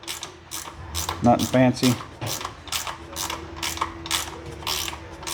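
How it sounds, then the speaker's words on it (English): A 3/8-inch GearWrench ratchet clicks in quick repeated bursts while loosening a part on a Murray MT100 riding mower, close and fairly loud, with a brief spoken remark over it. "we got a 3/8 gear wrench here"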